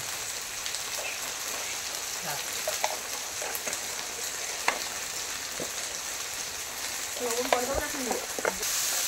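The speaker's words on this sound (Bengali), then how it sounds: "যতক্ষণ তেল না বেরোবে ততক্ষণ ধরে মশলা কষাতে হবে" Spice paste with turmeric frying in oil for an egg curry, stirred the whole time: a steady close sizzle with scraping and clinking of the spoon, and faint voices in the background.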